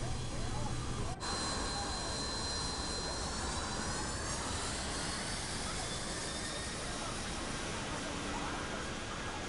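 A large aircraft's engines roar in a flight simulator game, a steady, loud jet drone holding throughout with a brief dropout early on.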